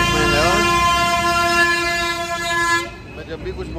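A loud truck horn blares close by in a long, steady, sustained tone on a road near Kiratpur in Bijnor district, then cuts off sharply and leaves rumbling road noise behind.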